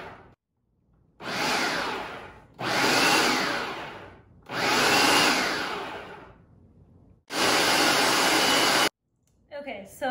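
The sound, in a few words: blender pureeing roasted red bell peppers for ajvar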